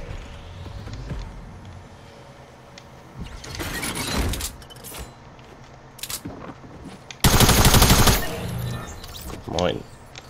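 Shotgun blasts ring out in Fortnite, several loud, sharp bursts spaced irregularly among background game noise, with one dense heavy burst near the end.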